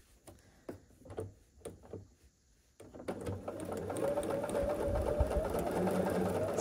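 Sewing machine stitching a seam on a quilt block, starting with a few short bursts and brief pauses, then running steadily and continuously at close range.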